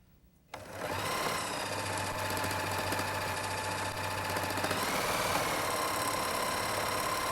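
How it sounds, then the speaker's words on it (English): A Viking Huskylock 1002LCD serger starts up and runs steadily while seaming knit fabric, a fast, even mechanical whir heard close, with a brief shift in pitch near the end and no voices. "the nice thing about serging this on your Huskylock is it stretches more than a sewn seam"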